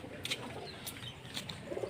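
Breeder pigeons in a loft give faint, soft coos and a few brief calls against a low background rustle, with no talking.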